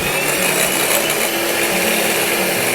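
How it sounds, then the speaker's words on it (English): Blender running loudly and continuously while blending a gluten-free cake mixture, a dense high-pitched motor whir with no pauses. "Now blend this again."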